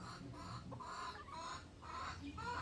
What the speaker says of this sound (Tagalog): Hala, ning lupad si Kibol